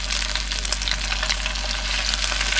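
Breaded fish pieces fry in a pan at a boat campsite, giving a steady, close crackling sizzle with spitting pops and no talk over it.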